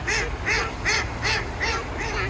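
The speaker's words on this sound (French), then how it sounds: "Il fait coin-coin très fort, celui-ci." Loud, close duck quacks repeat at an even pace, roughly every few tenths of a second, with no one speaking.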